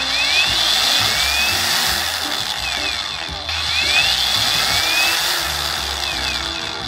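A BURKiN cordless angle grinder with soft start runs steadily at close range, its motor whine loud and continuous with a brief dip and restart midway.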